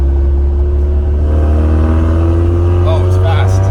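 A 1988 Toyota 4Runner with a stroker engine driving, its loud steady low drone filling the cabin throughout as the engine cruises under light throttle, with a brief voice near the end.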